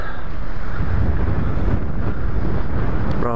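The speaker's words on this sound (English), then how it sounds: "Very windy, but it's blowing." Strong gusty wind roars continuously across a microphone at a rolling hilltop stop in the Hunter Valley, NSW, loud and steady with low rumbling buffeting throughout.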